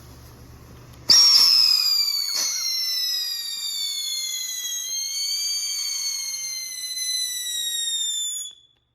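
Fireworks set off outdoors ignite with a sharp bang, then a loud whistling shriek slides slowly downward for several seconds before fading out, with a second pop partway through.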